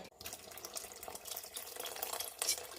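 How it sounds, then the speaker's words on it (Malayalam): Tamarind water pours steadily into a pan of prawn theeyal curry, a continuous splashing trickle close by with a brief break at the start and no voices. "നമുക്ക് ഇച്ചിരി പുളിവെള്ളം ഒഴിച്ചു കൊടുക്കാം"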